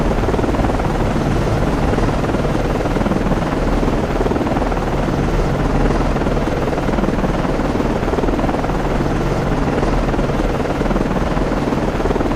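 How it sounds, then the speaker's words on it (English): A helicopter lands on a destroyer in the naval game Cold Waters, its loud, steady rotor and engine roar filling the whole stretch without a break. "Con, FLICO, aircraft landing."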